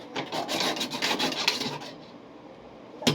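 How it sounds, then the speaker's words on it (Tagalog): A knife saws through a hard block of canned Spam meatloaf in quick rasping strokes for a couple of seconds, then stops. A sharp knock follows after a quiet pause. "Hinihiwa mo yan."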